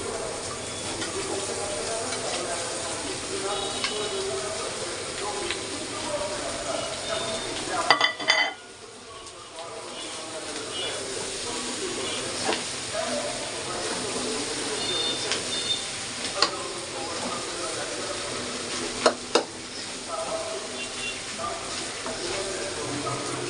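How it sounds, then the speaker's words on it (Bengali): Beef pieces frying with browned onions in a pan, sizzling steadily throughout with stirring scrapes and occasional utensil clinks, one brief dip near the middle, close and fairly loud; a voice speaks faintly in the background. "লাল লাল করে ভাজা ভাজা করে নিব, ভালো করে নেড়ে নেড়ে ভাজা ভাজা করতে হবে"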